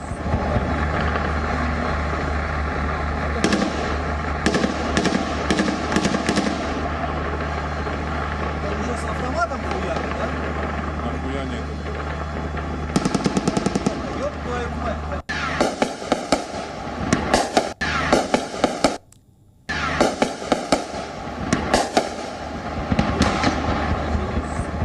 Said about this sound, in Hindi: जरा धमाकों की आवाज सुनिए।